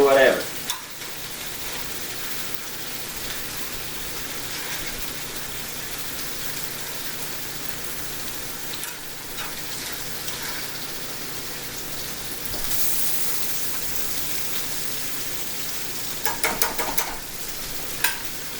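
Seared meat covered with onions and peppers sizzling in a skillet, a steady crackling fry with occasional stirring scrapes and clatters, close and continuous.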